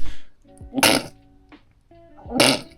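Two sharp, explosive sneezes burst out about a second and a half apart, loud and close, with a short breathy sound between them.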